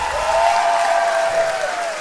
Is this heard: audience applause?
yes